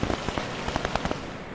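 Rain falls around a flooded bathroom, making a close, uneven patter of individual drops and splashes over a soft wet hiss. It is fairly quiet, with no voices.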